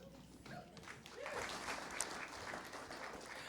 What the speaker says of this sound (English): While people are clapping